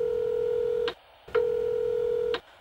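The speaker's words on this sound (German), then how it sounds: "Sie hören eine Nachricht auf dem Anrufbeantworter." An answering machine sounds a steady electronic beep tone, cut off by a click, then repeats it once more before a message begins. The tones are clear and fairly quiet, with no voice over them.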